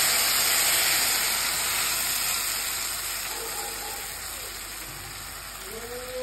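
A paste of mustard, poppy seed and green chilli hits hot oil in a pan, giving a loud, steady hiss that slowly fades over several seconds.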